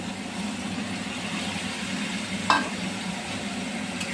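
Prawns and papda fish frying in a pan, a steady low sizzle with one sharp scrape or clink partway through.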